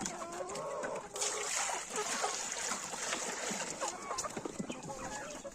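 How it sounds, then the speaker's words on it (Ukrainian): Water is poured for young chickens on a farm, a continuous splashy pour heard close up under steady clucking and peeping from the flock throughout. "Зараз іще в одне місце треба налити водички"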